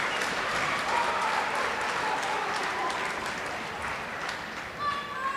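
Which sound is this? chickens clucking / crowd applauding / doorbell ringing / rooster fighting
crowd applauding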